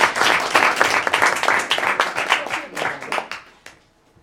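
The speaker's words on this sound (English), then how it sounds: "Can we just give like a big round of applause for Lucille" Applause from the audience at a Manhattan Borough Board meeting, a dense run of hand claps that stays steady and then fades out over the last second.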